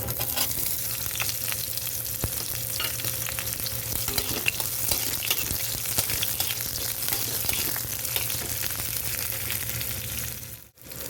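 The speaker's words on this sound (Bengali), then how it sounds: "পেঁয়াজটা একটু হালকা লাল করে ভেজে নেব" Onions frying in a pan with nigella seeds and dried chilli, a dense continuous sizzle punctuated by scraping stirs, close and steady with no talking.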